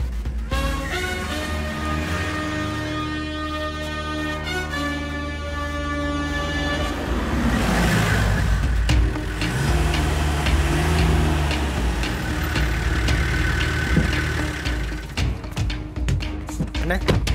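A car horn toots over a running engine as a vehicle pulls away in a tense film scene, with sustained tonal honking followed by engine rumble and voices mixed under the music.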